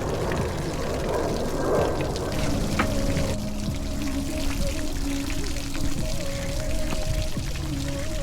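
Water pours steadily out of a boat's drain-plug hole in a continuous, moderately loud gush, with faint tonal hum in the background and no clear speech.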